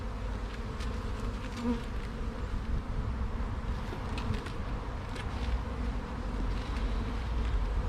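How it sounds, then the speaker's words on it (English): Honey bees buzz at an open hive during an outdoor beekeeping inspection, making a dense steady hum that stays close and constant for the whole stretch with no voices. "And these are the worker bees."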